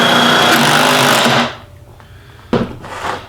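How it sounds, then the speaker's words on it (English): A drill-powered wrench whirs loudly and steadily for about a second and a half while tightening a bolt, then cuts off, followed by a short sharp burst of tool noise and a softer trailing whir. "This time I'll use the wrench to tighten it down."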